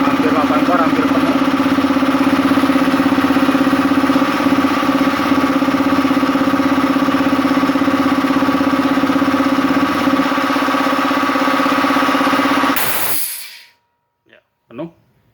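A cheap Multipro 180-volt electric air compressor runs with a loud, steady motor drone and strong tonal hum, then cuts off sharply, leaving a few faint knocks in the silence afterward.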